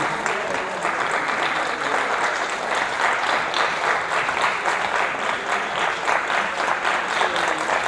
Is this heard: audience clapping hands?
yes